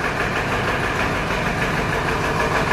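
A farm tractor hitched to a trolley idles nearby, a loud, steady mechanical drone with a faint knocking texture that holds constant throughout with no voices.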